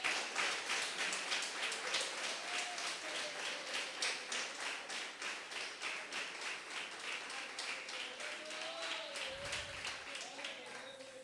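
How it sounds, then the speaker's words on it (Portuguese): A church congregation applauds in steady, rhythmic unison, the claps coming fast and even and fairly close. It carries on for several seconds, with a voice and murmuring underneath. "Você pode aplaudir o Rei dos Reis?"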